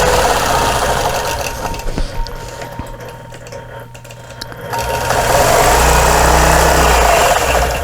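A sewing machine quilting blocks by stitching in the ditch hums loudly and steadily up close, its motor whirring with a brief slowdown midway before running at full speed again.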